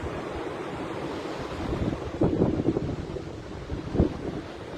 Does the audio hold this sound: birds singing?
no